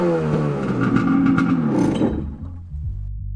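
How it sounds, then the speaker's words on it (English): A jet ski engine revs up loudly a few times with a rising whine and clatter, then drops back to a low rumbling idle. "give the jet ski a few revs to blow any of the water out of the system"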